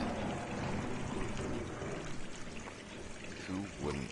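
Faucets running in the video game Gone Home, several taps open at once inside an abandoned house, giving a steady, dense rush of pouring water that holds throughout at moderate level.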